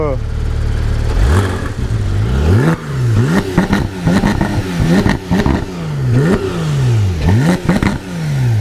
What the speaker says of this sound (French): Ah oui, on entend les valves.